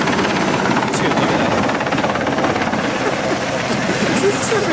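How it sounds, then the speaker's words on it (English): A helicopter arriving at night near a cabin in Norway, its continuous rotor chop loud and steady throughout. "right as I go to bed, a helicopter shows up"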